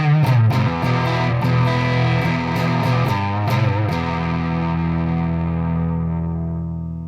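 Electric guitar with humbucker pickups played through a TC Electronic MojoMojo overdrive pedal, a run of distorted, sustained chords with sharp pick attacks, then a held chord ringing out and slowly fading, loud and alone.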